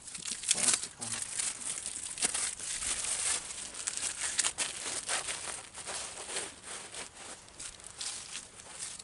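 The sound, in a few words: plastic wrapping crinkling on new hydraulic filter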